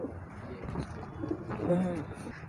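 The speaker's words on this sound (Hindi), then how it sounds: "मेरे पास वैसे तो बहुत कबूतर हैं" Soft pigeon coos sound close by, a few low, throaty calls against quiet background noise.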